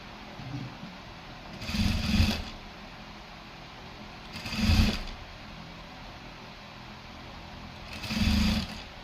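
A sewing machine stitching the neckline of a blouse runs in three short bursts, each a couple of seconds long, separated by quiet pauses, close and moderately loud with no talking.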